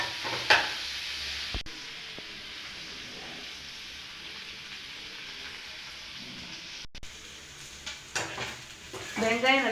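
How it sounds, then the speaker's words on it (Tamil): Onions sizzle in an oil-filled pan while cooking chithrana in a home kitchen, a soft continuous frying hiss framed by brief clatters of a utensil and pan at the start and end. "அடுத்து வெங்காயத்தை கொட்டிடலாம். வெங்காயம் ஃபுல்லாக ப்ரௌனிஷாக வரணும்."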